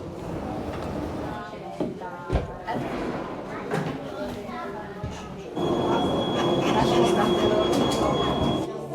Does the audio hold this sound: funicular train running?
yes